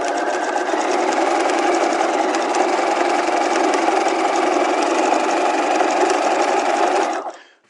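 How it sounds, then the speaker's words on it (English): A sewing machine runs a continuous half-inch stay stitch along a garment waistline, a fast, even mechanical whir lasting about seven seconds before stopping, close and loud with no voices. "let's go ahead to the machine and stay stitch our waistlines"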